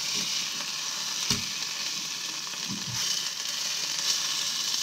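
Marinated meat fries in a pan on a home kitchen stove, giving a steady, close sizzle with a few faint clicks and knocks mixed in.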